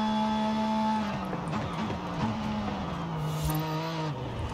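Interior engine note of a Porsche 911 in the video game Forza Horizon 5, a steady tonal hum that dips and shifts with gear changes, moderately quiet with no talk.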